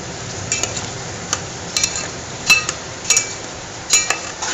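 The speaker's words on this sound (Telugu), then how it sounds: "మధ్యలో ఒకసారి ఇలా ఆయిల్లో ఫ్రై అవుతున్నా కానీ కలుపుకోవాలన్నమాట" Turmeric, chilli and salt frying in oil in a pan for potato and tomato curry: a low continuous sizzle, broken by sharp metallic clinks and scrapes of a spoon stirring against the pan at irregular intervals, no voices.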